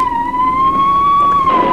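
An ambulance siren wails in a steady, sustained tone with a slight rise and fall in pitch, loud and close, with no talking over it.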